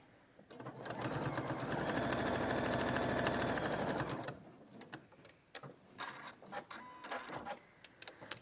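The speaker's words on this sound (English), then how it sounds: "take it to the machine and sew along that line" A sewing machine stitches fabric along a marked line in one loud, steady burst of rapid needle chatter lasting about three seconds, followed by softer clicks and handling noises.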